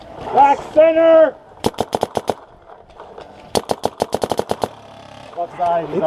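An SP Shocker RSX paintball gun fires a rapid burst of sharp pops during a game, then a second quicker string, loud and close, with voices talking before and after.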